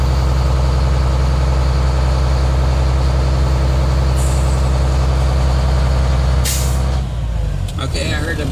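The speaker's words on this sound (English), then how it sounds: "I heard the burst air out of the air governor and my gauge stopped moving" A truck's air governor cuts out once air pressure has built to about 120 psi, releasing a loud, sharp burst of air near the end over a steady, rumbling diesel engine running at raised revs.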